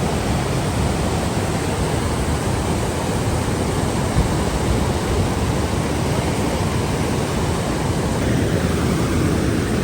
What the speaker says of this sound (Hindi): पानी की आवाज़ जो होती है वो बहुत ही पीसफुल लगती है